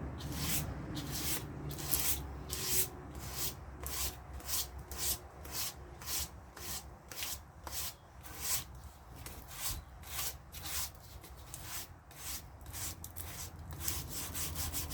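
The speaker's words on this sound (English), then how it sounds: "I'm going to sand that." Sandpaper worked by hand along a painted wooden table edge, giving a steady run of rhythmic scratchy rasping strokes, close and fairly loud, with no talking.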